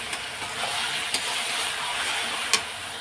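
Paste of green chili, garlic and onion frying in a pan, a soft steady sizzle with a few faint spatula taps, fairly quiet.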